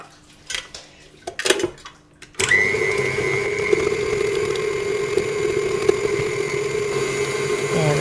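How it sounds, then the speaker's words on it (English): A stand mixer beats butter for vanilla cupcakes with a loud, steady motor whir and churning. It starts suddenly after a few seconds of clinks and handling noise and then runs on without a break. "We're going to mix it in the mixer until it's nice and smooth"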